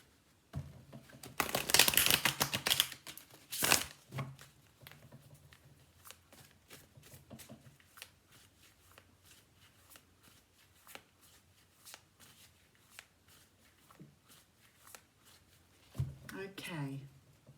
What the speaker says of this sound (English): I'm going to use the Everyday Witch Tarot for your reading. And I think I need to shuffle them a little bit more.